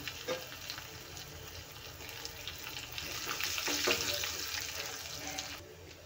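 Asafoetida and garlic fry in hot oil in a pan, giving a close, continuous crackling sizzle that swells slightly midway and then eases, with no talking.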